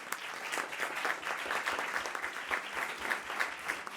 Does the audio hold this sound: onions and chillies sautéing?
no